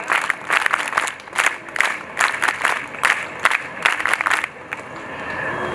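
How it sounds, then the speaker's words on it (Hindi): Crowd applause and cheering at a girls' character-building camp convocation ceremony at Aryan Institute, Agra, coming in repeated loud bursts with brief dips between. "वीरांगना ताली।"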